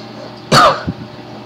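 One sharp, close cough bursts out loudly, followed by a softer small throat sound a moment later, with nothing else around it.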